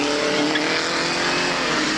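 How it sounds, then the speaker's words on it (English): John Caddy's Austin 7 single-seater race car, number 14, rushes past on the circuit near a hairpin, its engine a steady loud drone filling the whole moment. "Followed through by number 14, John Caddy in the Austin 7 single seat."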